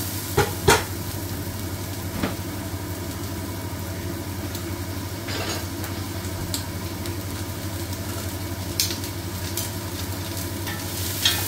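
Adobo chicken wings frying in a pan, a steady close sizzle beneath a low constant hum, broken by a few sharp scrapes and knocks as the wings are stirred.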